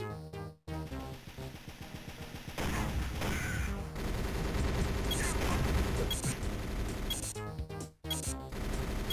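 Dense, sustained gunfire from dual shotguns in GoldenEye: Rogue Agent on the Nintendo DS, heard as a loud continuous barrage of game shots with brief gaps near the start and end.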